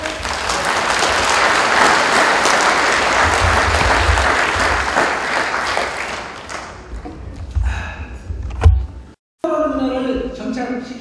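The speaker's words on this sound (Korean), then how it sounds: "여러분 박수로." Loud, sustained applause from a large audience at an inauguration ceremony fills most of the clip, then fades and gives way to speech and a brief cutoff.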